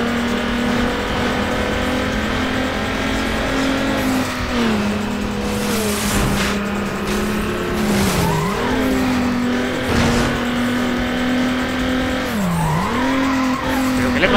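Subaru Impreza tearing along in a Need for Speed Underground 2 race with nitro engaged: a loud, steady engine drone that dips and climbs through gear shifts, with tire squeals and skids mixed in throughout.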